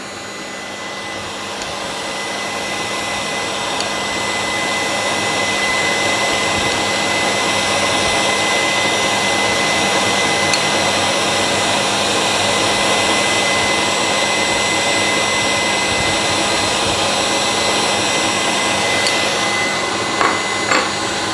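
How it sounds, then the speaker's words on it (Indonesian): An electric mixer beats butter on its own in a steady, loud, unbroken whir that lasts the whole stretch, with no talking over it. "sekarang di sebelahnya saya akan kocok butternya"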